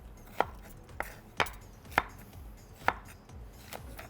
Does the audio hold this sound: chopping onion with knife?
yes